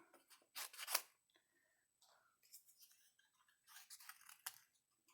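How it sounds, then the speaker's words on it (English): Scissors fussy cut around stamped paper flowers for an Easter card, giving quiet, close, irregular snips and crisp paper rustles separated by short silences. "we're going to fussy cut around these flowers"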